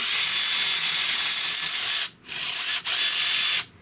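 A ratchet turns bolts during transmission removal on a Kia Sedona, giving dense, loud clicking that runs steadily up close, broken twice by brief pauses near the end.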